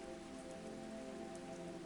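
Steady rain falls on broad, waxy leaves, a dense even patter of countless drops with no pauses, close and soft, continuing alone without any voices.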